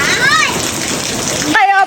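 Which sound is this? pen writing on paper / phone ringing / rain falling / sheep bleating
rain falling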